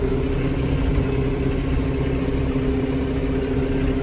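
A farm tractor's engine runs steadily at close range, a loud, constant low drone with no gaps and no voices over it.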